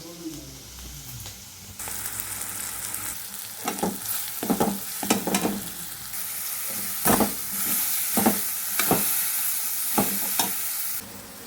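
Onion, tomato and coconut for a vegetable curry sizzle steadily in hot tempering oil, with a loud continuous fry and repeated scraping stirs of a spoon in the pan, no talking.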